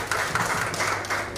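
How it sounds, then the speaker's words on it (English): Audience applause for Shane at a graduation reception for special needs students, a soft, brief patter of clapping from a modest crowd, fairly distant and even. "give Shane another round of applause"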